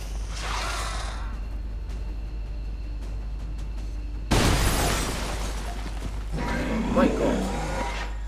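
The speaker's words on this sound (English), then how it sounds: "That thing and its constant explosions." Sudden loud explosions from a robot in the video game XCOM 2 burst out after a quieter stretch of mechanical ticking, with a second rumbling blast near the end.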